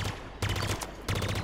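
Battle rifle fire in the shooter Halo Infinite comes in three rapid bursts of sharp, punchy shots, loud and close, separated by brief pauses.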